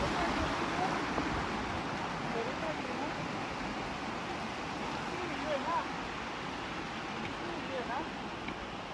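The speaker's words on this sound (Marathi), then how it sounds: "इकडे मस्त पाणी असं येतो, धबधबा वाहतो येतो आपल्याला इकडे" Steady broadband rush of a waterfall flowing along the Kalavantin Durg trek trail, continuous and fairly loud throughout with no breaks.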